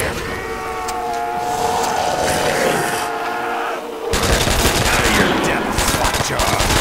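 Rapid pistol gunfire in a Minecraft custom zombies game, a dense stream of sharp shots that runs continuously, thins briefly, then returns louder and busier toward the end.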